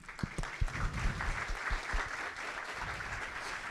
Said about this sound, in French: Je vous demande un tonnerre d'applaudissements pour Loubna Ksibi,